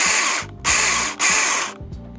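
A Seesii 6-inch battery pruning chainsaw revs loudly up close in three short bursts, each a high whining buzz that cuts off into a winding-down hum, with brief pauses between.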